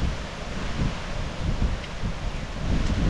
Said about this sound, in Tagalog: Ba't lakas na hangin?